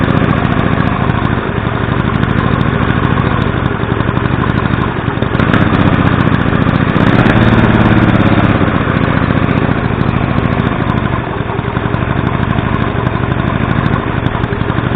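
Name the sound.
Mini Hog small engine idling during carburetor adjustment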